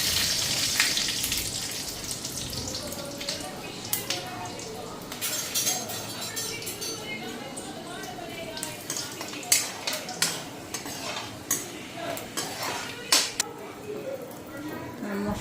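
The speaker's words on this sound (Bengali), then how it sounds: "5 ফোড়ন সম্বারটা দিয়ে দিই আর শুকনা লঙ্কা।" Five-spice seeds and dried red chilies tempered in hot oil in a home kitchen, giving a steady close sizzle with repeated sharp clinks of a utensil against the pan toward the end.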